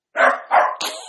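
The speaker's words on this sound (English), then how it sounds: "She's doing this thing that really scares me where she goes to the door and barks." A dog barks at a door indoors, three quick, close, loud barks in rapid succession with no other sound.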